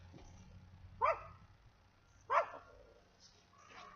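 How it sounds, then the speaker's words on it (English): Two sharp dog barks about a second apart, moderately close, over quiet background hum with no talking. "Dogs are going crazy."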